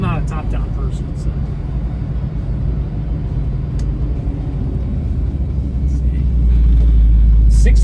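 A 1970 Dodge Challenger R/T convertible's rebuilt engine runs at a steady, deep idle with a smooth low rumble that swells louder toward the end.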